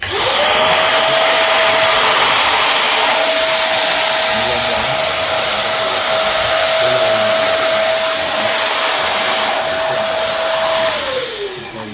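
An industrial vacuum cleaner set up for household use runs steadily for the whole stretch, a loud close motor whine with a constant tone and airy roar that fades slightly at the end.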